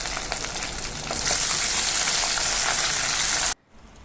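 Shallots and dried red chillies fry in hot oil for sambar, a close, dense, steady sizzle that swells after the first second, holds, then cuts off abruptly near the end.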